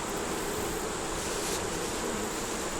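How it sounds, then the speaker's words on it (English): Honey bees crawl on the ground beside the hive, giving a dense, steady buzz at close range that continues without a break, with no voices. "There's a bunch of bees on the ground."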